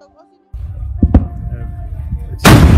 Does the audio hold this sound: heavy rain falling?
no